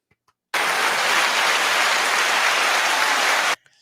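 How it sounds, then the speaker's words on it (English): Steady, even applause from a small audience, like a polite golf clap, starting abruptly and holding at a constant level for about three seconds before cutting off, with no talk over it. "Golf clap."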